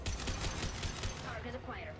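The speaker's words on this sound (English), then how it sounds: "Taking heavy fire." Rapid gunfire in the sci-fi shooter game Mass Effect 2, a dense string of quick shots over a steady background, then a sweeping electronic tone as the shooting eases.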